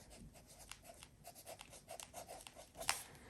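A pen scratching across a paper page to label a template in an altered-book junk journal planner: quick, close strokes in an irregular rhythm with a sharper scrape near the end, no voices.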